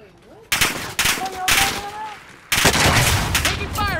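Rapid automatic gunfire in a military shooter video game, loud bursts that start and stop abruptly between short gaps, with voices talking over the action.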